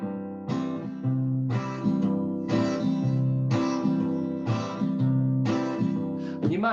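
A guitar plays a root-and-fifth bass pattern, a steady strummed rhythm of about seven regular chord hits alternating between two bass notes, heard clearly and alone.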